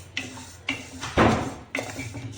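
Roasted urad and moong dal scraped out of a pan, with a few sharp metal clinks of a spoon on the pan and a short rushing pour of the dry lentils in the middle.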